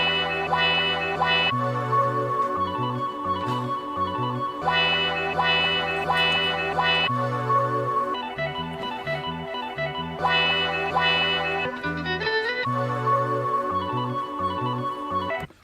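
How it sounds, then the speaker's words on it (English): Chopped hip-hop sample slices play back in sequence, looping bursts of music with a thumping low end and choppy, stuttering phrases repeating at a steady beat, loud and without talk. "sample chops laid out sounds like this"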